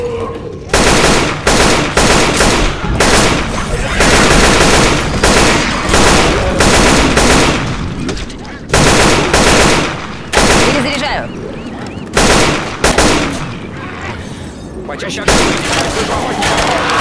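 Rapid bursts of automatic gunfire with scattered single shots in the video game Left 4 Dead 2, loud and dense, broken by brief pauses over a busy, noisy background.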